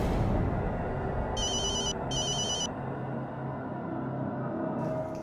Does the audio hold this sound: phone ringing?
yes